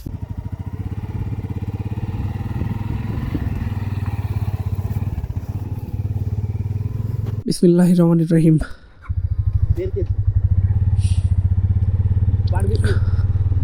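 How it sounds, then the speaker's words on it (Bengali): A motorcycle engine runs steadily and close at the start of a ride toward Gorubathan in Kalimpong, a constant mid-low drone that briefly cuts out while a voice speaks a short phrase. "শুরু করছি বাইকের জার্নি"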